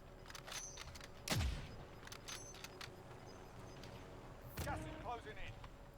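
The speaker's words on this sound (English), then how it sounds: "you hear, you know, it's still gunshots going off" Gunfire in the video game Call of Duty Warzone, a few quiet distant shots and a sharper nearer burst around the middle, faint and scattered against a low game background.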